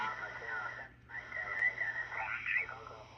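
Ten-Tec Omni VI amateur radio receiver playing without DSP, giving a band-limited, hissy received signal with a faint voice drifting through the noise and a low steady hum underneath.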